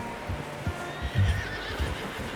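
A horse whinnies and snorts close by in the video game Red Dead Redemption 2, with hooves clip-clopping underneath in an uneven rhythm.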